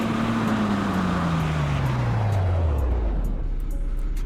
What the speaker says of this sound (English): Let's check the braking.